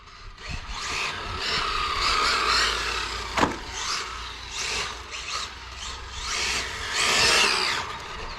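A Maverick Strada brushless 5000KV RC car running on Tamiya circuit tyres, its high whining motor buzz rising and falling steadily over about eight seconds, with one sharp click or knock partway through.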